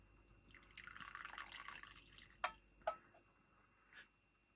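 Hot tea poured from one cup into another, a faint gurgling trickle followed by a few sharp drips and small clinks in a quiet room.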